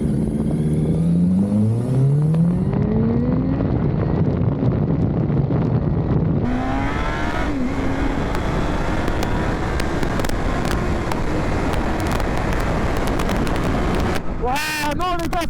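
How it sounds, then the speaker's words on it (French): A Yamaha R1 motorcycle of about 175 hp pulls onto a highway in first gear, its engine revving hard with rising pitch sweeps, heavy wind roar buffeting the microphone throughout and a sharp high rev burst near the end. "là je m'insère sur l'autoroute, on se met en première, regardez cette accélération."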